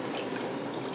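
About a cup of water pours steadily into a pan of seasoned chicken with soy sauce, salt, pepper and adobo for Chinese sweet and sour chicken, a continuous close splashing stream running unbroken throughout without any voices.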